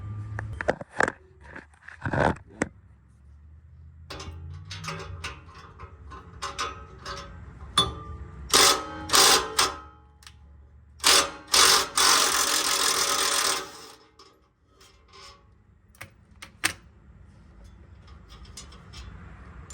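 Small Milwaukee power tool removing a drive shaft during transmission work: scattered metallic clicks and clinks, then several short bursts of the tool and one longer buzzing run, close and loud, followed by quieter tapping.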